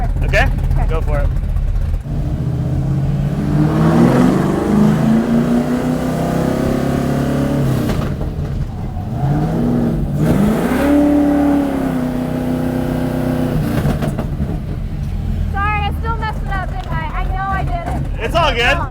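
Drift car on a festival course, loud engine revving and accelerating hard with rising pitch sweeps, tire and exhaust roar throughout, while people talk over it.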